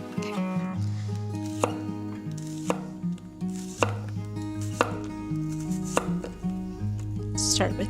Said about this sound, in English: So let's first chop up our onion.